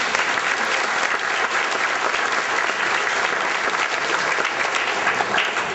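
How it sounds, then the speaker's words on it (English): A community audience at a youth poetry event gives a sustained round of applause, loud, full and even from start to finish with no speech over it. "a little round of applause for that as well"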